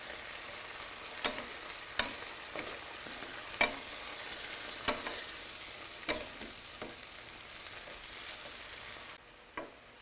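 Stuffed peppers with smashed tomato cooking in a pan over a gas flame, a steady soft sizzle with a few sharp utensil taps and clicks spaced through it, heard alone.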